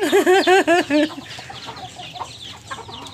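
Native farmyard chickens and chicks on a small mini farm give a run of loud, close, rhythmic clucks in the first second, then softer scattered clucks and peeps trail off.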